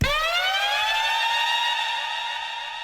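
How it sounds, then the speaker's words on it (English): Synth siren effect from a bass house track, a loud sustained tone with bright harmonics that swoops rapidly upward and then holds nearly steady, fading slightly over about three seconds with no voices. "So, this iconic siren effect."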